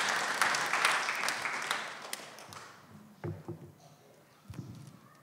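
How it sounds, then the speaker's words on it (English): Congregation applause at a church Sunday service, a broad wash of clapping that fades out over a few seconds, followed by a few scattered thumps and shuffling noises. "Let's give them a round of applause."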